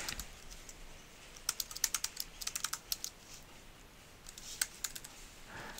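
Keystrokes on a computer keyboard, typing a page name into Google Sites, come in quick close bursts with short pauses between them, quiet and alone with no talk.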